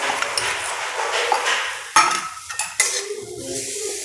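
Homemade mawa (khoya) being stirred in a frying pan, a steady scraping and sizzling with a few sharper clinks of the spoon against the metal pan, close and moderately loud with no talk.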